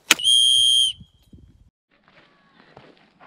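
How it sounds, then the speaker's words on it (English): A single loud, shrill whistle blast of about a second rings out on a mountain trail near Garnet Lake. Faint footsteps and soft rustling follow in the quiet afterward. "I have a whistle, I'm gonna blow it."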